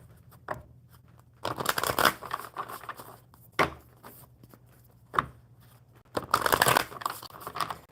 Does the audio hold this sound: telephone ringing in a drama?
no